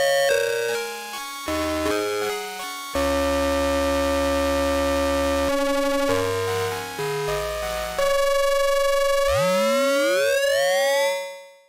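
Sequential Prophet X synthesizer in ring mode, playing clean, steady tones that change pitch in blocks, then ending in swooping, gliding ring-modulated sweeps that rise and fall, moderately loud and with no voices.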